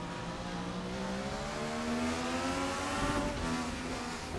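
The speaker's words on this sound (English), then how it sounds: "as they accelerate that roar of those V6s" DTM race cars with V6 engines in a racing video game at Hockenheim, a rising engine roar as the cars accelerate, harmonics climbing steadily, fairly faint and continuous with no talk.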